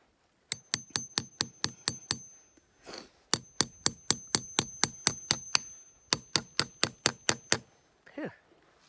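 Hammer blows drive a metal tap into a maple tree for syrup, landing in three fast, steady bursts of sharp close knocks, each burst about a dozen strikes, with a brief scrape between bursts and a breathy exhale at the end.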